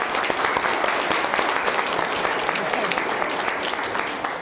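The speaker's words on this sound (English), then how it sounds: "Can we give the aces some huge applause?" Steady, dense clapping from a large audience at a Battle of the Books competition, loud and continuous throughout with no pauses.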